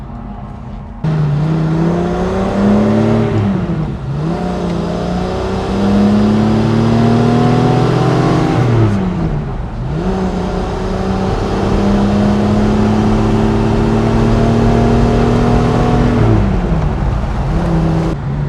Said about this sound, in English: I will put it in the first gear, release the handbrake, and we are ready to go and drive on the racetrack